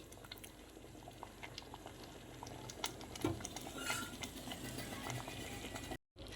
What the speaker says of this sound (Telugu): ఒక టెన్ మినిట్స్ ఉడకనివ్వాలి కర్రీ చిక్కబడుతుంది